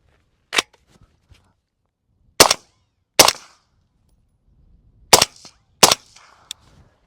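Rifle shots fired at close-range targets, five sharp loud cracks spaced irregularly over several seconds with brief echoes and near-silence between them.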